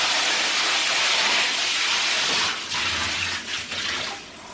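Steady broadband water spray hissing continuously, then breaking up near the end as the stream shifts.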